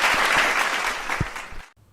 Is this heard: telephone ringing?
no